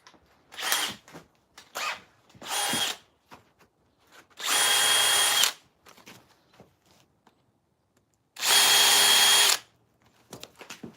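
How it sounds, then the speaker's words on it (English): A power drill bores eye holes into a chainsaw-carved wooden figure in repeated bursts, two short whirs followed by two longer steady runs, with handling noises in between. "I can go ahead and drill eye holes out"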